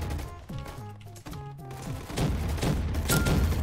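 Grenade blast in Roblox Gunfight Arena, a loud broadband burst arriving late and rumbling on with the crackle of ongoing gunfire, preceded by a tonal voice-like passage.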